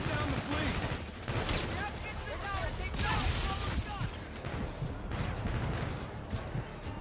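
Rapid gunfire from weapons shooting down an enemy fleet in Call of Duty: Infinite Warfare, dense and continuous bursts with blasts layered over a busy battle mix, with talk faintly underneath.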